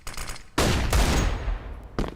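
In a Counter-Strike: Global Offensive match, Desert Eagle shots ring out as loud, sharp game gunfire: one heavy burst that trails off into a decaying tail, followed by another crisp shot near the end, with no voices.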